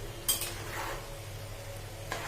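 Cooked vegetable curry, finished with a little garam masala, is stirred in a pan: a couple of soft spoon scrapes and clinks over a faint, steady low sizzle, quiet and close, with no voices.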